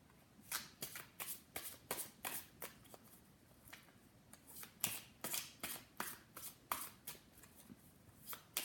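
A deck of oracle cards is shuffled by hand in steady, crisp riffling bursts roughly every half second, close and fairly quiet with no other sound around it.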